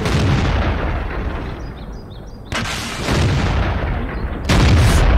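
Heavy tank cannon blasts boom out twice in the video game World of Tanks over a continuous rumbling background, with sharp loud onsets and lingering roar.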